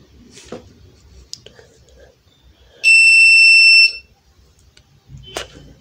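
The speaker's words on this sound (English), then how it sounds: "I put the invalid fingerprint, then the buzzer activate" A single loud electronic buzzer tone from a fingerprint door lock rejecting an invalid fingerprint sounds for about a second, steady and piercing, between quiet handling noises and soft clicks.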